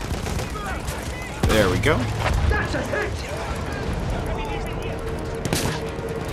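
Gunfire and heavy blasts against a field gun in the World War I shooter Battlefield 1, with a sudden loud burst followed by continuing rumble and crackle while someone talks over the battle noise.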